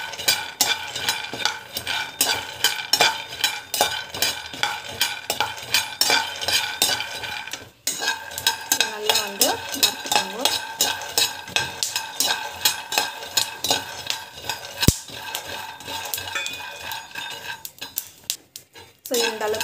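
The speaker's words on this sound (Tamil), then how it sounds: "ஸோ கடலைப்பருப்பு வந்து சேர்த்துக்கோங்க. நல்லா வறுத்துக்கோங்க." Chana dal being stirred and dry-roasted in a metal pan, with rhythmic scraping and clinking of a spoon against the pan, steady and close, pausing briefly partway through.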